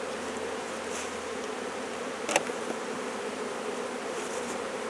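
Honey bees buzz steadily around a hive in a chemical-free apiary, a dense continuous drone close by, with one brief louder swell partway through.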